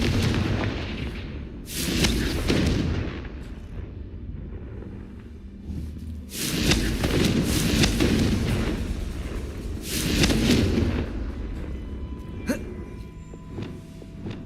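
Confringo fire-blast spells go off in Hogwarts Legacy, several loud booming bursts spaced a few seconds apart amid rumbling game ambience.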